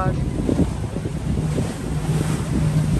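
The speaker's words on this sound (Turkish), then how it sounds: "Dalga geliyor ya" Sea waves wash and break close beside a small boat, with steady rushing surf and wind buffeting the microphone throughout.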